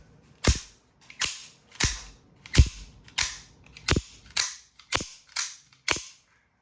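A Hawk Deadlock Model C OTF automatic knife fires its blade over and over, ten sharp snapping clacks at a steady pace about two thirds of a second apart, loud and close with no voices.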